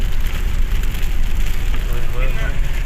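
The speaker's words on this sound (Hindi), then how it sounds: "बहुत ज़्यादा बारिश आ गई है" Dense, continuous rain noise in Medina, a loud broadband roar of heavy downpour with a faint voice murmuring underneath.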